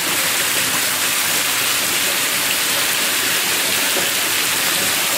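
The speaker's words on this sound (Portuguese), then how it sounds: "aqui em Quixeramobim tá chovendo." Steady rain pours down in Quixeramobim, Brazil, on a February morning, a dense, unbroken hiss of drops with no voices.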